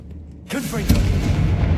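A Confringo blasting spell goes off in Hogwarts Legacy as a sudden loud boom with a rumbling tail that carries to the end, under faint background game sound.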